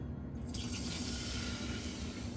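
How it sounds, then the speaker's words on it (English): Red wine poured into a hot pan of leftover oil and browned bits to deglaze it: a faint liquid hiss that starts abruptly and swells into a steady sizzle, with no voices. "I'm going to add my red wine and just try to get up all those good bits."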